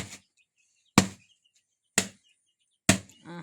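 Maize being pounded with a new threshing machine: four sharp, loud thuds land about a second apart, each decaying quickly into silence, with no talking.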